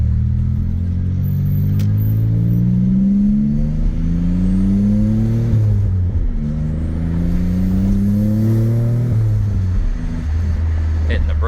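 A 1986 Nissan 300ZX Turbo with a Greddy turbo hums steadily and rises in pitch as it accelerates, drops back, then climbs again, with the road noise of a moving vehicle throughout.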